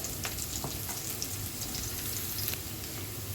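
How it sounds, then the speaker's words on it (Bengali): Onions fry in a pan at home, a steady close crackling sizzle that holds evenly throughout with no voices. "পেঁয়াজগুলো আমার ভাজা হয়ে গেছে"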